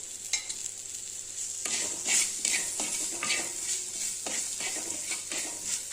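Sliced lady's finger vegetables, turmeric and a pinch of asafoetida sautéing in a pan, with a bright continuous sizzle broken by repeated scraping stir strokes and occasional clinks of the spoon against the pan.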